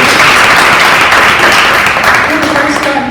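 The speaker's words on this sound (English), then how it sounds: "Give them each a round of applause for their work." A room full of summit attendees applauds panelists at a politics and donor event, a dense, steady wash of clapping lasting about three seconds and blending with murmured voices.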